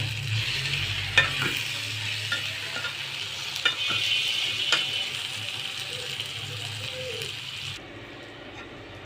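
Whole spices such as fennel, cumin, cardamom and cinnamon sizzle and crackle in hot oil for chicken roll filling, with steady frying hiss, stirring scrapes and a few clinks, fading quieter near the end.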